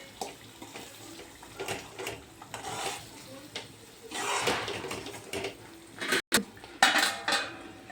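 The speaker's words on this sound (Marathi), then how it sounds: "यावर झाकण ठेवून पुन्हा एकदा आपण गॅसची फ्लेम लो ठेवून मस्त मस्त असे यामध्ये मसाले जे आहेत मिक्स होतील" A lid set onto a pan of dhaba-style palak paneer on a low gas flame, heard as scattered clinks and metallic clatters of cookware and utensils against a soft kitchen background.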